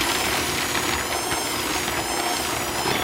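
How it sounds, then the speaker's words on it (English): An electric hand mixer runs at slow speed through cookie dough for oatmeal cookies with cranberries and white chocolate chips, giving a steady, close whirring and rattling drone that holds evenly throughout. "I like to start off with my mixer on a nice slow speed"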